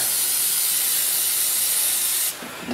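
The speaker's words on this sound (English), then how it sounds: "Maybe I'll just give this thing a little spray too." An aerosol spray can hissing onto a part during reassembly of a Wolseley engine, one continuous close, loud spray lasting over two seconds before cutting off.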